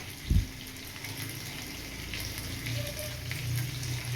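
Barbecue chicken seasoned with soy sauce cooks in a pan on a stovetop over a low flame, giving a soft, steady sizzle with a brief thump near the start.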